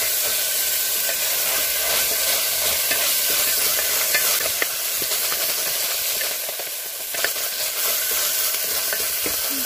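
Fenugreek leaves being sautéed in a pan for aloo methi pulao, with a steady close sizzle and hiss and occasional stirring scrapes throughout, no voices.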